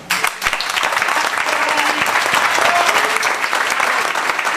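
An audience at a theatre show claps in a dense, loud, sustained roar of applause with crowd noise, filling the whole stretch without pause.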